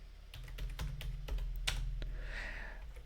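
Computer keyboard typing during coding, a quick irregular run of crisp close key clicks over a low steady hum, then quieter, with no talking.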